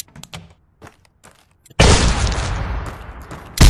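A grenade in the VR shooter Tactical Assault VR goes off after a scatter of small clicks and taps, then a loud broad blast whose roar slowly decays over nearly two seconds, ending in another sharp burst.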